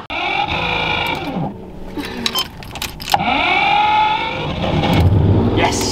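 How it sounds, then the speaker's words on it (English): Lamborghini Countach engine idling steadily after a refuel on a long cross-country drive, a continuous loud mechanical hum with a couple of brief knocks and speech-like sounds mixed in around the middle. "She seems to be idling totally fine."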